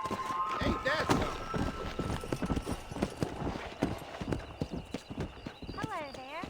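A horse in the Red Dead Redemption video game trots with steady, close clip-clop hoofbeats that run throughout, and a whinny rises near the end.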